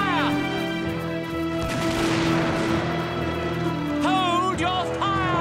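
Cartoon musket volley at the Lexington battle, a dense burst of crackling gunfire and smoke-filled rumble through the middle, with shouted voices and a bugle-like tone sounding before and after.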